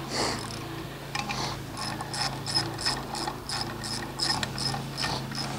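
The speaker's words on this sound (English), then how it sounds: "So this is a speed wrench. Two-fisted speed wrench." A two-fisted speed wrench turned by hand while driving in fasteners on a motor, giving a steady run of close ratcheting clicks in regular bursts over a low hum, with no talk.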